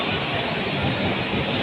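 LTT Express train at Kalyan Junction, a continuous loud rolling rumble of rail cars passing close by, with no voices.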